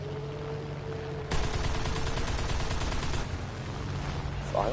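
Sustained rapid gunfire in War Thunder, a dense rattling burst that cuts in after a second and runs on under a steady engine hum, fairly faint overall.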